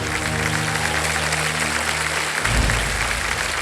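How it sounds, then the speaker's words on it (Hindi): Studio audience applause on a televised quiz show set, a dense steady wash of many hands clapping at full volume, with a low musical tone underneath that cuts out partway through. "तालियां बज जाए"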